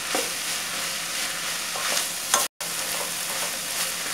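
Chopped garlic and onion fry in a pan, giving a steady close sizzle with scraping stir strokes and a brief cut partway through; no one speaks.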